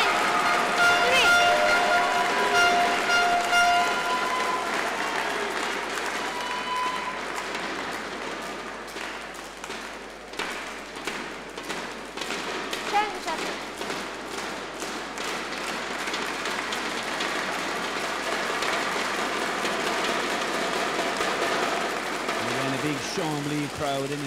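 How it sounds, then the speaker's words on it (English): Crowd at the 2014 European Club Championship badminton final, Primorye Vladivostok vs BC Chambly Oise, banging Yonex thunder sticks in steady loud rapid clatter and cheering throughout, with commentary over it. "Crowd in attendance, all with their Yonex Thunder Sticks, making lots of noise in support of their team."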